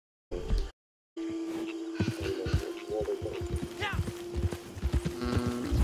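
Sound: horse in Red Dead Redemption 2 video game

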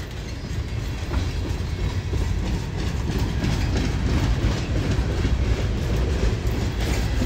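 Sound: freight train with Conrail boxcars passing

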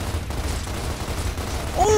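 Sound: gunfire in the video game Gears of War Ultimate Edition

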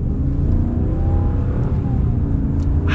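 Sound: Ram Power Wagon 6.4 Hemi engine accelerating

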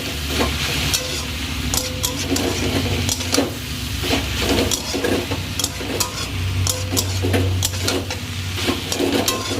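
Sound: stirring greens with sugar in a pan

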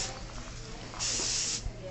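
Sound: aerosol dry shampoo spraying

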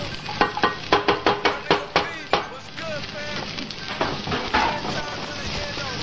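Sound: chopped onion sizzling in a hot skillet

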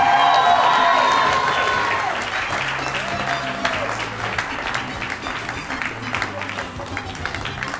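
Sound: audience applause

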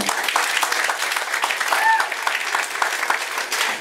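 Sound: concert audience applause

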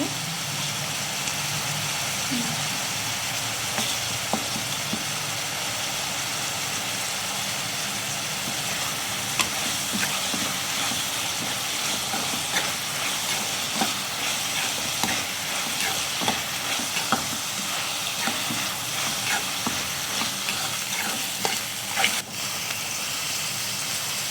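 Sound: onions frying with ginger garlic paste added

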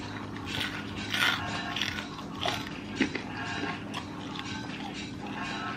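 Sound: crunch of eating deep fried lobster tail

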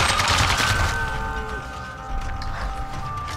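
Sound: machine gun fire in the video game Sniper Elite 3

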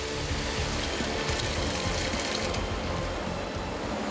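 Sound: pouring barley water onto oven-roasted salt

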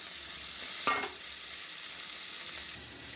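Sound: onion frying with cumin in a pan

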